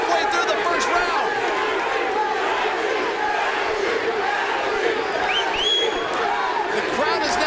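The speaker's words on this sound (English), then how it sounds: "The crowd is now on their feet, chanting Gaethje." Arena crowd at a lightweight title MMA fight on their feet, chanting a fighter's name in a continuous loud roar of voices that fills the whole stretch.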